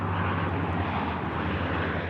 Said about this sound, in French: Survol de l'avion rouge et jaune des pompiers au-dessus de Gérardmer